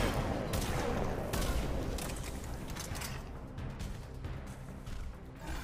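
Shotgun blasts in the video game Mass Effect 3 sound amid steady battle noise, several sharp reports spaced irregularly, with faint mechanical clanks between them.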